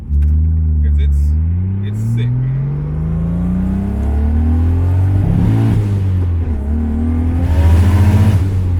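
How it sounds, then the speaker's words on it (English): A 1JZ-swapped Lexus LS400 pulls hard on a highway, its engine droning loud and steady as revs climb through rising gear sweeps, the note staying close and continuous throughout. "I can do pulls up and down the highway all day long in this car"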